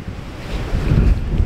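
Strong wind buffeting the coast at Lochranza Castle on Arran, a close, gusty roar hitting the microphone with a low rumble of surf, rising in strength toward the end, no voices.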